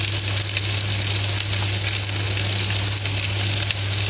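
Fishball noodles frying in a pan, with a loud, continuous sizzle and crackle of oil that runs steadily and close by, with no talking.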